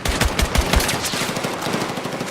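Rapid automatic gunfire rattles out at close range, a dense burst of sharp shots fired down range that trails into scattered, echoing reports.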